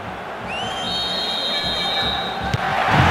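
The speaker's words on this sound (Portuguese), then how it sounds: "E a torcida marca a presença, faz um espetáculo bonito." Stadium crowd in the PS2 football game Brasileirão 2009 Bomba Patch roars steadily, with sustained whistles and a swelling cheer toward the end.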